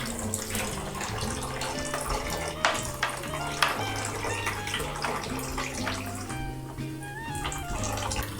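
Home-brewed beer wort pouring slowly into a fermenting bucket after passing through a plate chiller, a steady close trickle and splash of liquid with a few louder gurgles, with no voices.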